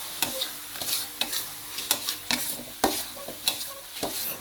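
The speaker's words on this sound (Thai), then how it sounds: "เราจะผัดหมูสามชั้นให้สุกก่อนเลยนะครับ" Pork belly stir-fried in a pan for a pork and cha-om curry: sharp spatula scrapes recur every half second or so over a soft, continuous sizzle, close and clear without talk.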